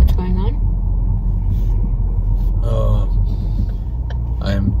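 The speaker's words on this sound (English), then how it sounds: "I am driving right now" Steady low road rumble of a car being driven in cold weather, continuous throughout with a voice talking over it and brief breathy sounds.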